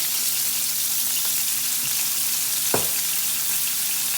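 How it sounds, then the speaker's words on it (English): Onions frying in olive oil in a pan, a constant close sizzle with one sharp utensil tap near the end. "once you get these onions going in that olive oil"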